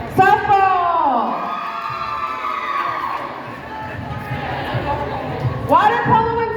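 A large high school pep rally crowd at a Pink-Out event roars and whoops for the water polo and swim teams, a loud sustained cheer with shouting voices swelling at the start and again near the end.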